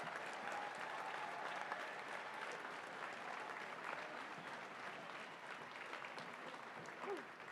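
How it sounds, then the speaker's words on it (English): An audience at a FIRST Robotics Competition district event applauds volunteers, a long, steady, distant-sounding stretch of clapping at low level from a large hall. "So let's thank them with a loud round of applause for all of their hard work."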